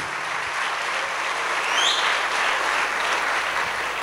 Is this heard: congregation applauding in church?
yes